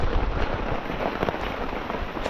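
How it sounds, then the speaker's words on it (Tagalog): Steady rain pours down over a banana plantation, a dense continuous hiss of drops striking surfaces, close and fairly loud, with no talking. "Yan ang ulan."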